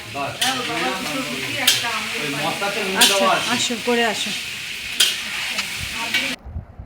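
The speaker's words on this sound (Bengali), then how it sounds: "ডিমগুলোকে আগে প্রথমে ভেজে নিচ্ছে" Eggs frying in a pan at a home spring picnic, with a steady crackling sizzle and repeated sharp scraping strokes of a spatula, while people talk nearby throughout.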